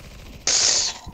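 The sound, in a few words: gunshots in CS:GO video game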